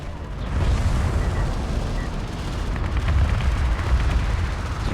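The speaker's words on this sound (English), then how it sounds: "Gunships hitting carrier, not the most effective." Gunship fire pounds a carrier in the Homeworld: Deserts of Kharak strategy game, a dense, continuous rumble of booming impacts and bursts running loud throughout, with no talk on top.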